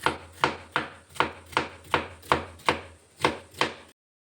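Knife chopping bitter gourd and other vegetables for palya on a board, about nine evenly spaced, crisp chops in a steady rhythm, close and clear with no talk.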